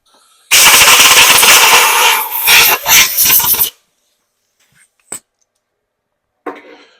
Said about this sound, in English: blow my chips out so we don't end up with any debris down in there throwing our angle off, which means I need my blower.